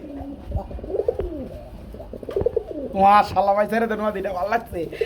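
Pigeons at a pigeon market cooing in low, rolling calls that grow louder and busier partway through, mixed with people talking nearby.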